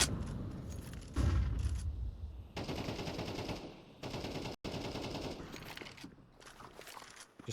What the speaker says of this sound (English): Just spamming away from the Pompa side.